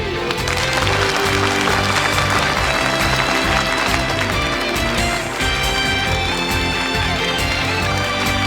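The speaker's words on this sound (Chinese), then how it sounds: "请让我们以最热烈的掌声，" Loud, sustained applause from an audience at a cosmetics product launch event, dense and continuous throughout with music playing underneath.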